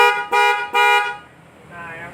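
Mitsuba Alpha electric car horn tuned around 400 Hz, giving two loud harmonic honks in quick succession, each about half a second long, then a fainter trailing tone.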